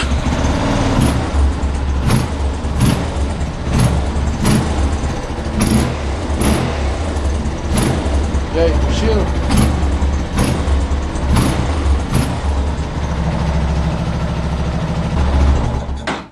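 A Yamaha Fazer 250 motorcycle idles close by with its exhaust whistling from a missing washer, a steady engine rumble broken by regular sharp puffs and pops roughly every second; someone speaks briefly at the start.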